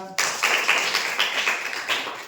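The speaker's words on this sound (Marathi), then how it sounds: "त्यांच्यासाठी टाळ्या वाजवा." Applause for the two winners of a classroom word chain pair activity: a brief burst of light, uneven hand claps from a small group, fairly close, lasting about two seconds.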